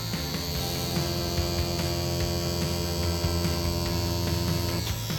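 A PEAK Proteus rotary tattoo machine runs at 7 volts with a liner needle, a steady close electric hum and buzz that holds level throughout, with no talking.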